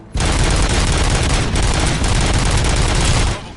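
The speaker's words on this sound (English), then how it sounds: "Gunshots? What's going on?" Sustained rapid gunfire, a loud continuous fusillade of overlapping shots and bursts, runs nearly unbroken for over three seconds before cutting off abruptly.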